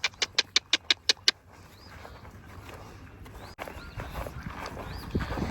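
Seven sharp, evenly spaced hoof clops ring out close by, then give way to a rustling outdoor background with faint bird chirps.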